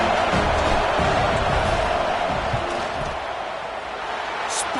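Stadium crowd at a college football game roaring during a field goal attempt, a loud continuous wash of cheering and noise that dips slightly midway, with a commentator speaking over it.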